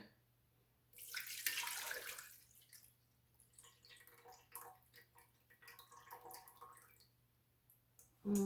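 Water being poured into a breadmaker pan for sourdough, a splashing gush that starts strong and then trickles and gurgles unevenly at low volume, close by and without talk.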